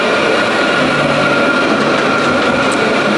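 Tram ride through Bordeaux, France, carrying a steady, loud rolling rumble of wheels and motor that holds constant without pauses or any voices.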